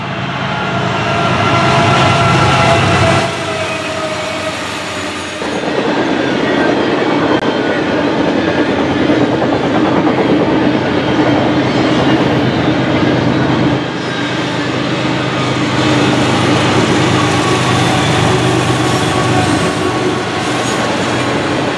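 A heavy Norfolk Southern freight train led by a GE ES44AC locomotive rumbles past close by, a loud steady roar of wagons with wheel clatter and faint squeal throughout.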